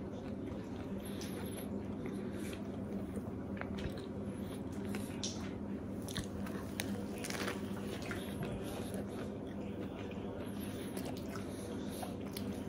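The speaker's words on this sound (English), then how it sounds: "So you can hear the crunch." Someone bites and chews an eggplant bacon sandwich with tomato and lettuce, soft close-up crunching and squishing under a steady background hum, with faint murmured voices.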